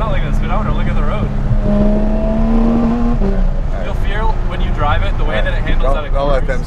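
Porsche 991.2 GT3 RS engine drone from inside the cabin while cruising, steady tonal hum with a gear-change shift midway, continuous and close under conversation.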